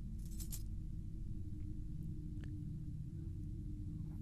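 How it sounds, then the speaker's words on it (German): A key is picked up in the horror game Anna Extended Edition: a brief metallic jingle near the start, then a few faint clicks over a steady low, droning ambience. "Ich will auf jeden Fall da einen Schlüssel nehmen."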